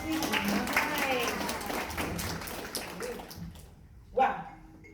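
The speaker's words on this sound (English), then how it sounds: "Can we give a round of applause, please?" A storytelling show audience, including children, claps in a brief burst of applause that thins out after about three seconds, followed by quieter room noise and a short vocal sound.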